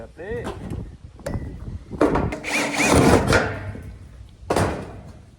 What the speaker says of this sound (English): drill it first, and then these are just roof screws